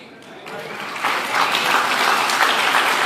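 Audience applause swells quickly from a few scattered claps into a full, dense round of clapping that stays loud to the end.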